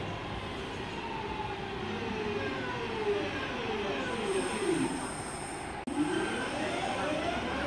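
A Class 323 electric multiple unit pulls away from Five Ways station, its traction motors whining in rising tones over a steady rumble of wheels on rail, loud and close throughout with a brief dip near the end.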